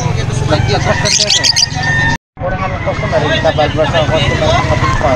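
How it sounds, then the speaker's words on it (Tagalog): Birds squawking and chirping at a busy pet market in Angeles City, bright calls bursting over steady crowd noise and people talking, with a brief dropout midway before the chatter and calls resume. "dito tayo sa mga ibon ni sir"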